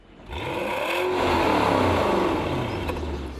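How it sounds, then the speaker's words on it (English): Porsche Panamera exhaust under ordinary acceleration: a smooth, rising engine note builds from quiet to a loud, steady drone, climbing in pitch through the revs and easing slightly at the end, heard close with no talking. "This is how it sounds when the driver accelerates normally."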